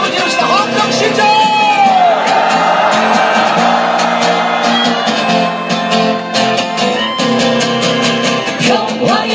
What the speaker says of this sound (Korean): 같이 함성 한번 지릅시다. 함성 시작!